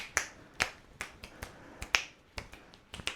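Finger snapping, alone and close, with about ten sharp, dry snaps at a loose, uneven pace while a bead-in-tube repair setting sits untouched.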